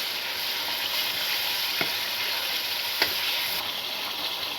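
Tomato paste is stirred into biryani gravy sizzling in a pan, giving a steady, close frying hiss with a couple of soft utensil knocks and no talking.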